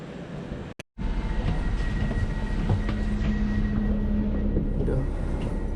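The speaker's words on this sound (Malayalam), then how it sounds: "ഇതൊരു ഡബിൾ ഡെക്കർ ട്രെയിനാണ്," A double-decker train in Nuremberg, Germany rumbles steadily nearby after a brief dropout, with continuous rail noise, a sustained low hum and faint squeaks through the rest.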